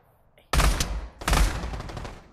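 An AK rifle in the VR shooter Pavlov fires two loud, close bursts of rapid shots, one after the other, with no talk over them.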